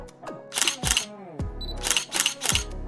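A cameraman's single-lens reflex camera fires its shutter in several sharp clicks, arriving in close pairs and small bursts, near and crisp against a quiet background.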